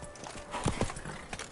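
Horse hooves clip-clop softly at a walking pace on a road in Beauclair in The Witcher 3, a few muted thuds over steady ambient background, no talk.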